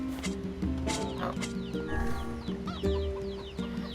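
Chickens in the video game NieR Replicant cluck repeatedly in short, close bursts, several birds overlapping with sharp squawks, over quiet game background sounds.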